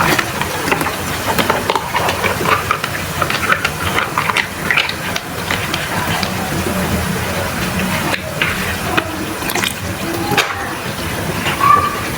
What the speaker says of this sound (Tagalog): Pakuliin lang natin siya